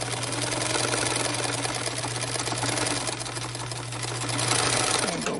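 A Bernina 830 sewing machine stitches binding on a tool roll, a loud, steady, close hum of continuous stitching with a strong low motor drone throughout.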